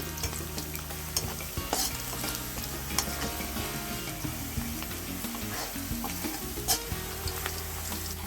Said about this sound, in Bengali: এখানে দশটা এলাচ দিয়ে দিলাম এলাচটাও ভেজে নিচ্ছি